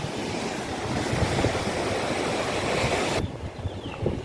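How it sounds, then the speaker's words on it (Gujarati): Sea waves surge and crash against a seawall at Diu, a loud continuous roar of surf that drops suddenly to quieter wash near the end. "જો મોજા કેવા આવે જો પછી સામે દિવાલ રહીને ત્યાં અથડાશે"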